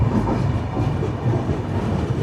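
The Barak Brahmaputra Express rolls out on its run toward Dimapur, a steady rumble of wheels and carriage noise heard from inside the moving train, close and continuous.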